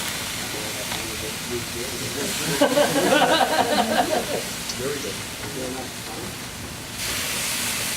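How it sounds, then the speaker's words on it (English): Steady hissing sizzle of snapper, pork and chicken cooking on a grill, with a voice speaking briefly over it partway through. "That's again the sizzle that you hear."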